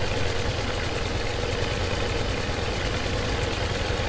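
Kuban G1A1 bus engine in the OMSI 2 simulator, heard from outside: a steady, loud idling rumble with a dense mid-low drone that holds unchanged throughout, no talking.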